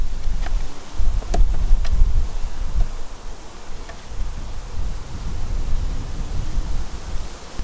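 Honey bees buzz inside a poly nuc hive during an inspection, a dense, low, continuous hum with faint rustling, close and fairly loud.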